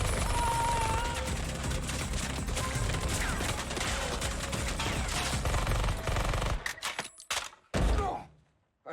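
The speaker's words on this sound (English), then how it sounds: "The core pull out their guns and start firing." Loud, dense gunfire from several guns in a Deadpool & Wolverine film scene, continuous rattling bursts for about six seconds before cutting to brief sharp impacts and near silence.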